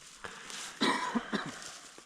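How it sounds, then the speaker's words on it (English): A few short, rough throat clearings and small coughs, close and fairly quiet, with brief pauses between them. "I have to clear my throat"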